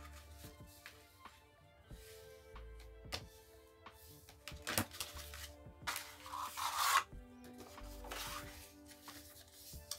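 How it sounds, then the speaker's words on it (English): Paper folded and burnished by hand while making a folio, giving repeated close rasping rubs and soft creasing scrapes with short pauses between strokes, louder toward the middle. "Fold and burnish."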